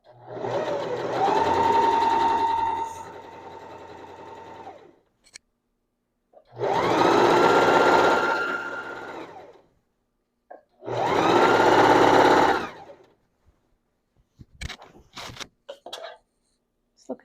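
A sewing machine stitches curtain fabric in three sustained whirring runs of a few seconds each, separated by pauses, close and fairly loud, with small clicks and handling noises after the last run.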